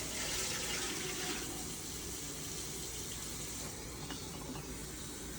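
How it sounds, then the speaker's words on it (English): Water running from a kitchen sink tap into a container, a steady close hiss and splash that softens slightly partway through, with no talking. "we're going to reach over here to the sink, and we're going to grab some water"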